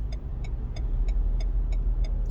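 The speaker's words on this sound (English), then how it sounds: "So very busy road in front of me. There are cars, trucks constantly." Busy road traffic with cars and trucks passing in Germany, a continuous rolling rumble and tire noise with faint regular ticking, no voices.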